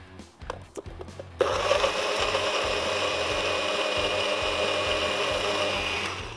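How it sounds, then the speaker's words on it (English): A few knocks and clatters, then a blender roars on, blending a garlic marinade, and runs loud and steady for several seconds, its whirring motor filling the space. "All we're gonna do with that is blend that up."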